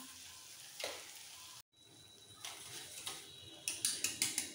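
Capsicum paneer masala fries in a pan with a steady close sizzle, broken by a short gap and then a run of sharp spattering pops near the end.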